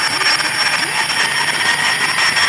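An alarm clock rings continuously with a shrill, buzzing tone that stays steady and loud throughout.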